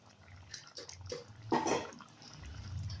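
A pot of tamarind curry with turkey berries at a boil, giving soft bubbling and dripping pops, close and moderately quiet, with a brief louder surge of burbling midway.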